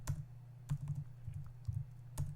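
Quiet, close typing on a computer keyboard during Android Studio coding: a few quick bursts of key clicks separated by short pauses, soft and alone, with no speech.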